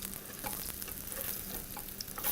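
Sweet potato latkes, freshly turned over, sizzle in a hot pan with a soft, even frying hiss, quiet and continuous over a short moment with no voices.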